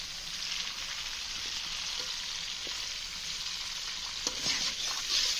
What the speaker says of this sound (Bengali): মাছ প্রায় ভাজা হয়ে গেল এই পাশে